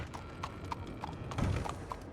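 Horse hooves clip-clop at a steady walking pace in a Western roleplay video game, each hoofbeat distinct and fairly close over a low ambient bed, with no talking.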